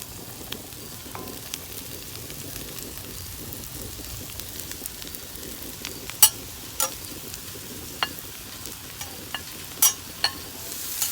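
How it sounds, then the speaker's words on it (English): Mushrooms searing on a Blackstone griddle make a soft, even sizzle with occasional sharp clicks and ticks of moisture spitting. "We want a good sear on the outside of mushrooms"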